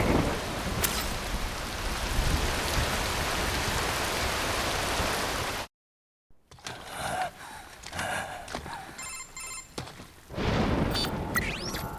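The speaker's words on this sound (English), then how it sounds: "Wind blows. Rain falls." Steady rain pouring down in the Metal Gear Rising video game, a loud, even hiss that cuts out abruptly midway, gives way to quieter mechanical sounds, then returns near the end.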